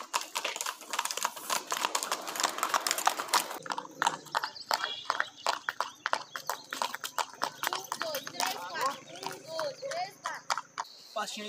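Hooves of a marchador horse moving in the marcha picada gait on a farm, quick rhythmic clip-clop beats close by, with people talking and calling out over the footfalls.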